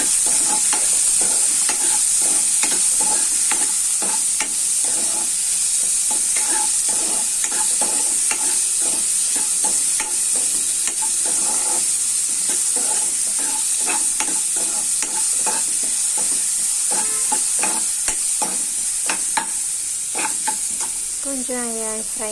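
Food fries loudly in hot oil with a constant crackling sizzle, and a spoon scrapes and taps the pan again and again at close range for over twenty seconds.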